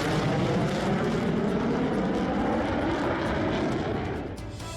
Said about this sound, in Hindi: और फिर F-16 की उड़ान भी शुरू हो जाती है।